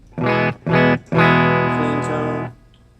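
An electric guitar runs through an Electro-Harmonix Metal Muff distortion pedal set with heavy bass, mid treble and moderate gain, playing two short chugged chords and then a longer sustained one, loud and close with no talking.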